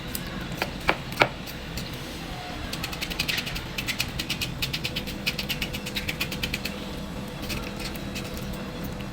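A knife hand-chops tomatoes for tabbouleh on a board: a few separate cuts, then a fast, even run of crisp chops close by.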